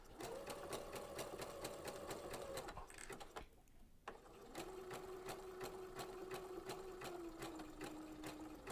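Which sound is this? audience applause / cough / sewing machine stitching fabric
sewing machine stitching fabric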